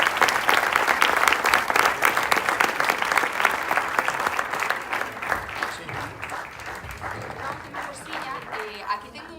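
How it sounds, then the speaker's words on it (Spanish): An audience at a film discussion in a cinema breaks into loud, sustained applause for a speaker, the clapping dense at first and gradually thinning, with some voices mixed in. "Un fuerte aplauso para Carolina"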